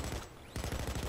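Rapid gunfire in Payday 2, a quick train of close shots that pauses briefly and then resumes in a fast rhythmic burst.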